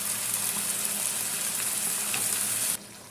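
Water from a rinsed grinder jar pours into frying masala for a quail egg roast, setting off a loud, steady hiss and sizzle that fills the pan, then cuts off sharply near the end.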